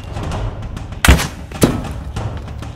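Gunfire in a VR shooting game played on an Acer VR headset: two sharp, loud shots about half a second apart, each a broadband blast, over a steady busy game soundscape.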